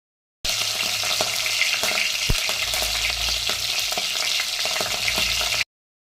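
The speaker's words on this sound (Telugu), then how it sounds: "వీటిని అయితే దీంట్లో వేసేసి మంచి గోల్డెన్ కలర్ వచ్చేదాకా మనం దీన్ని ఫ్రై చేసుకుందాం" Ingredients fry steadily in hot Parachute coconut oil for a homemade hair-growth oil, with a dense, continuous close-up sizzle and a few faint clinks, then stopping abruptly.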